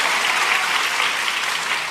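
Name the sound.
church congregation applause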